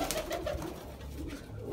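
Sialkoti chuha pigeons coo softly in a few low repeated pulses, faint and somewhat distant over a steady background hum, with no talk.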